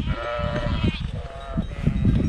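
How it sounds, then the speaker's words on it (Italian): Sheep bleat repeatedly in a high mountain pasture around 2000 m, several overlapping calls close by and fairly loud against outdoor rustle. "È pieno di pecore."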